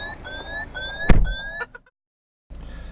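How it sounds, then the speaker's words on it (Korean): A Citroën C5 Aircross door opens with the engine running, setting off an unusual repeating electronic warning chime in a steady series of tones, broken by a loud door clunk, then silence before low idle resumes. "시동이 걸린 상태에서 문을 열면 상당히 이색적인 경고음이 들리기도 하고요"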